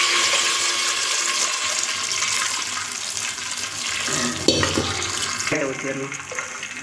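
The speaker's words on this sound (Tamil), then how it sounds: "கொஞ்சம் தள்ளிக்க புளிக்கரைசலை ஊற்றிடலாம்" Tamarind extract is poured into a simmering seer fish curry, and a liquid splash cuts through a steady close sizzle and bubbling from the pan while someone talks.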